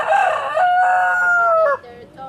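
A red rooster crows loudly and close by, one long drawn-out cock-a-doodle-doo call with a rising start and falling end, heard alone in a backyard with chickens.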